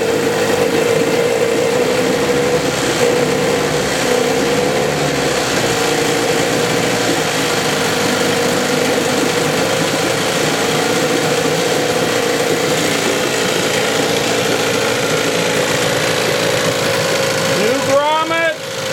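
A 15 HP Evinrude outboard motor, freshly fitted with a new grommet and impeller, fires up with the choke pulled and settles into a steady, loud idle that runs on throughout, with a brief rising rev near the end.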